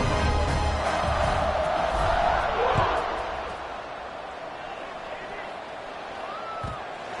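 A stadium crowd roars and cheers before the kickoff of a football game. The noise is loud at first and then eases into a steadier background din.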